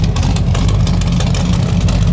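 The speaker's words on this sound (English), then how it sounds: "Dual exhaust sounds nice." Close by, a 1968 Chevrolet Chevelle SS with dual exhaust idles loudly and steadily, its deep, throbbing exhaust rumble continuous throughout.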